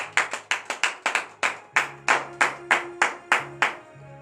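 Worshippers at a morning prayer service in Benin clap in a sharp, evenly spaced rhythm, about a dozen crisp claps ringing out close over a low sustained tone.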